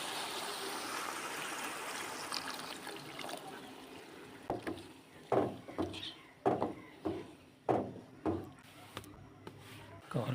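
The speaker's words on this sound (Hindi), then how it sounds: "पानी शामिल करेंगे 1 गिलास।" A glass of water is poured into a pan of cooking mixed vegetables (potato, peas, carrot, fenugreek), a gurgling splash that gives way to a series of sharp, rhythmic knocks and scrapes close by.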